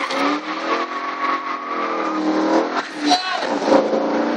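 A Ford Mustang GT revs hard during a burnout, its engine note rising and wavering loudly and close for several seconds, with tire squeal hinted near the end and people talking faintly underneath.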